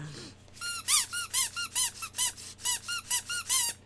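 A toy tube from a blind-bag opening squeaks over and over, about a dozen short loud rising squeaks in quick succession close by, no talking.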